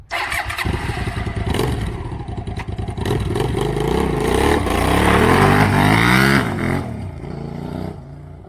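A Hyosung 650 motorcycle rumbles loudly and close on a street, its engine revving up and climbing in pitch through the gears before easing off, with no talk.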